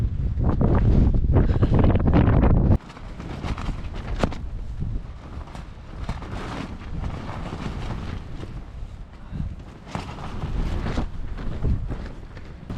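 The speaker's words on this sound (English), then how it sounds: "The wind's already picking up." Strong wind on a coastal mountain buffets the microphone in loud roaring gusts, heaviest at first then easing into a steady, fluttering rush with no talk.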